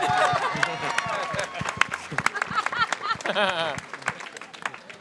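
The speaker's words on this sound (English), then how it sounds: "That deserves a clap." A studio audience at an Empire Season 2 Q&A claps in a brief, fairly close burst while a voice keeps talking over and around it.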